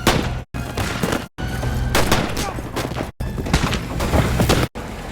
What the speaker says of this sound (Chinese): 他手持一挺机枪，呐喊着雅各布·达顿的名字，朝他们开枪射击，瞬间击中了雅各布和约翰